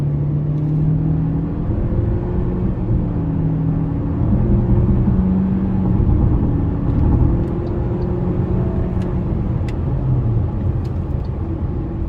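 MG ONE 2023 car in sport mode accelerating, its engine droning and rising through the gears from inside the cabin, a steady close rumble with shifting tones and brief clicks.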